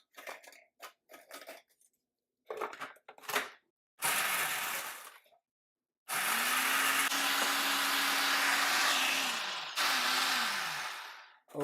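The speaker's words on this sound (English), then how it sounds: "we're going to add our graham crackers to this food processor. This is a quick way to get your graham crackers crushed finely" Graham crackers are pulverized in a food processor: short rattling pulses and crunches give way to long, loud, steady whirring runs with a grinding roar, broken by brief pauses, with no talk.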